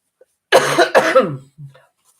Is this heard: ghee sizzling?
no